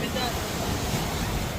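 Surf breaking on Pondicherry beach, a steady broadband wash of waves with wind buffeting the microphone, loud and continuous throughout.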